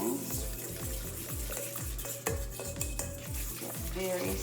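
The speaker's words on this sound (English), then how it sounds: "I'm just mixing it. Take my cinnamon" A utensil stirs cinnamon into cookie batter made from cake mix in a bowl, giving a quick, regular series of soft scraping and knocking strokes, close and fairly quiet, with no one talking.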